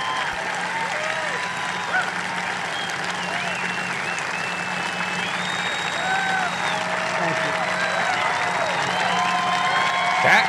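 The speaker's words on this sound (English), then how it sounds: "That's what gets the applause?" Sustained audience applause fills a political rally, dense steady clapping with crowd murmur and faint voices underneath, loud and continuous throughout.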